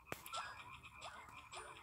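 Frogs croak in the Animal Jam video game, a handful of short, bubbly croaks in a quick irregular series. They are fairly faint and sound alone, with a sharp click near the start.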